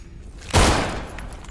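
A single heavy gunshot in a video game, fired at a wall to cut recoil, a loud close blast with a short decaying tail and faint ambience after.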